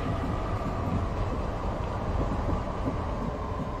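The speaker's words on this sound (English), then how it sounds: "there's the other blue line train here" A Minneapolis Blue Line light rail train passes with a steady, loud rolling rumble of wheels on track, holding constant throughout with no speech.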